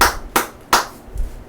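Three sharp hand claps ring out at an even pace, each a crisp, close slap with a short decay, and a fainter fourth tap follows near the end.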